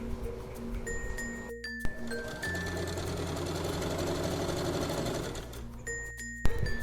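A sewing machine stitches the side slits of an A-line skirt, its fast, even whirring running close and steady between short stops at the start and end.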